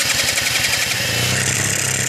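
A rat moped engine cold-starting on choke in spring: it turns over in a rapid pulsing chug, then catches and settles into a steady, loud, close buzzing idle.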